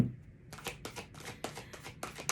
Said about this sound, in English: These ones are always difficult to shuffle.